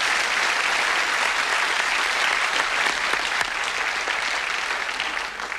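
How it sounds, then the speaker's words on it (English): Loud, sustained studio audience applause for game show contestants on a 1978 television variety show, an even roar of clapping that continues throughout without any voices. "A nice round of applause for Marion and Christopher, ladies and gentlemen."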